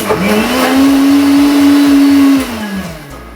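An electric mixer grinder blends a milk drink in a jar, whirring up to a steady loud hum for about two seconds, then spinning down, with no talk over it.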